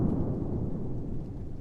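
Low, steady rumble of thunder following a lightning strike, loud and continuous throughout with no voices over it, heard at an outdoor rocket test site during a wet dress rehearsal countdown hold.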